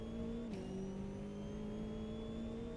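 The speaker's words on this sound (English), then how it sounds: "You got the roaring BMW engine in that McLaren." Race car engines roar steadily in a GT1 racing video game, a loud continuous drone with a slight pitch drop as one car shifts, no talk over it.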